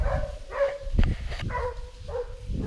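A pack of hunting dogs bays and barks at a cornered wild boar near a pickup truck during a hunt, with overlapping yelps and howls close by against steady outdoor noise.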